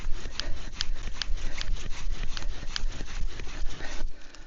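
A bow drill with a root bowstring spins against a wooden socket to make fire. It gives a rhythmic rubbing and scraping, close and moderately loud, with the regular strokes of the bow sawing back and forth and no talk.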